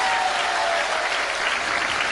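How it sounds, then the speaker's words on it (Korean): Children clapping together inside a church service, a brief burst of loud, continuous applause that fills the room without any talking over it. "얘들랑 박수 한번 해."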